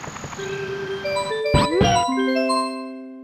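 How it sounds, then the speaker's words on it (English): Super Mario 64's Yoshi jingle in the video game hangs briefly on its first note before the bright, chiming melody rises and rings out, sustained tones fading at the end, clear and alone. "So often it sounds like this, where it hangs on the first note while Yoshi turns."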